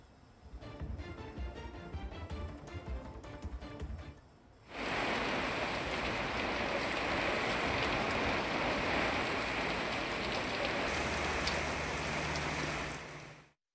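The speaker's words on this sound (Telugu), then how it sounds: "ఇటు ఉప్పాడ తీరంలో అలలు ఎగసి పడుతున్నాయి" Sea waves surge against the Uppada coast as a cyclone strikes, a dense, steady roar of rushing water and spray that swells loudly after a quieter opening and holds without pause.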